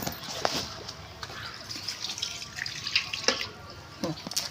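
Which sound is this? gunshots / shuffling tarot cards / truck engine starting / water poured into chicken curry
water poured into chicken curry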